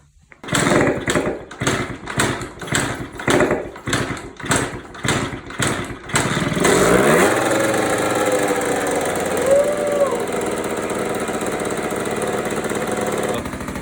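A 1982 Honda MB5 two-stroke motorcycle engine is kicked over in a run of rhythmic cranking pulses, then fires and settles into a loud, steady, buzzy idle.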